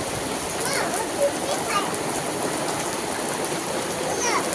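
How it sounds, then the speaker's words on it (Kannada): Steady rain pours down in a dense, hissing wash as wind blows, with a few faint higher chirps and light splashes rising above the constant noise. "ಜೋರಾಯ್ತು ನೋಡಿ ಮಳೆ"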